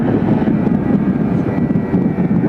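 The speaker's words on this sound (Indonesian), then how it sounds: "Kalian ini mau manasin Ninja ya, soalnya ini motor jarang sekali keluar" A Kawasaki Ninja motorcycle engine warming up after sitting unused, a loud, steady low rumble droning continuously close by, with wind buffeting the microphone.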